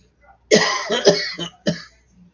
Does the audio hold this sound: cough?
yes